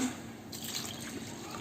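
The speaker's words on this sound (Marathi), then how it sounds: "तर आता मी ह्याच्यामध्ये पाणी घालते उकडत ठेवण्यासाठी." Water poured into a pot of dal to be boiled gives a soft, steady trickling splash, close and quiet, lasting under two seconds with no talk.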